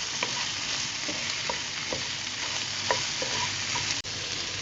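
Chopped green chilies stirred into carrots frying in a chicken sauce, a loud continuous sizzle with rhythmic spatula scrapes against the pan and a brief knock near the end.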